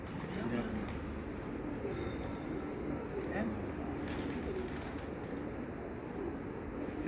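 Pigeons cooing softly amid a busy flock with steady background noise, while people talk throughout.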